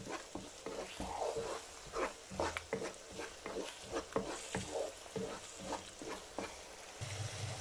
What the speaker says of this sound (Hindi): बस 2 मिनट तक इसको भूनेंगे मसाले के साथ कीमे को।